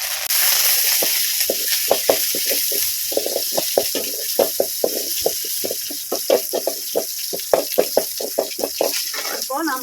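Washed curry leaves dropped into hot oil over a wood-fired stove for a fish curry crackle and spatter in rapid, irregular bursts over a steady sizzle, close and fairly loud.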